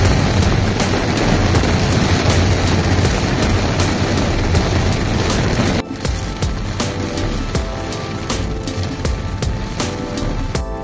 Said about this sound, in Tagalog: Ulan, inabutan tayo ng ulan dito sa San Narciso.